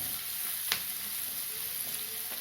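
Onions sautéing with salt in a pan, a steady soft sizzle running throughout with a couple of brief scraping stir sounds.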